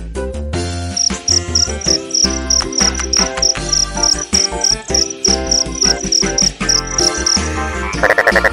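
Crickets chirp in a rapid, steady pulsing trill that repeats for most of the stretch, loud and close, layered over a bouncy children's song backing with no voices.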